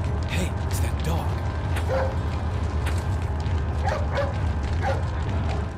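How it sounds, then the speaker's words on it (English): A dog barks several times in a Resident Evil 4 cutscene during the El Gigante boss encounter, sharp yelps over a dense, constant mechanical rumble and game ambience. "Hey, it's that dog."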